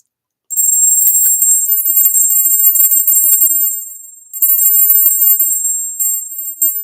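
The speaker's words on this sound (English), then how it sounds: "And every bell has a different sound." A small hand bell with a Canadian coin-themed handle rings in a bright, high, shimmering tone, shaken steadily for several seconds, briefly fading, then ringing again, close and loud with no talk.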